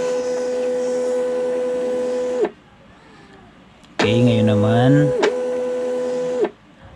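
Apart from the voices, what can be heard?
waybill thermal printer printing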